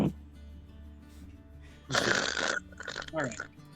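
A voice imitates the snoring of an old woman who sleeps chewing on bones, a loud, raspy snort-like burst followed by two shorter rasping breaths, close and dry.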